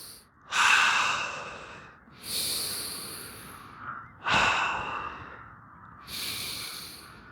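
Slow, deep breaths during a qigong exercise, four long audible exhalations and inhalations, close and unhurried, with quiet pauses between them.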